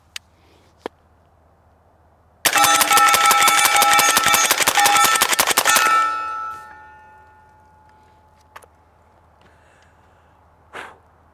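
Suppressed PSA Jakl 300 Blackout rifle fired in a rapid magazine dump, a dense burst of loud ringing shots lasting several seconds that fades into a lingering metallic ring, with a few isolated clicks before and after.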